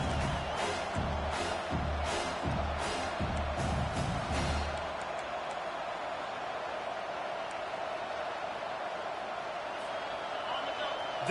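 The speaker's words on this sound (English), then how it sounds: "Decibels rising as the crowd gets behind this defense on third down." Football stadium crowd roaring behind the defense on third down in Hk vs Georgia, a dense, loud, steady wall of crowd noise throughout with rhythmic thumps early on, and the commentator talking over it.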